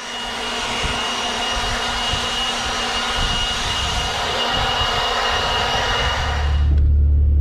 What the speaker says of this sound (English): I am just blowing, cleaning the street off, and then if I get it in their driveway, I am blowing their driveway off.